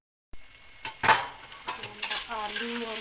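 Potatoes and peas frying in a pan, a steady sizzle with a few scraping stirs of a utensil against the pan, close and clear with no talk.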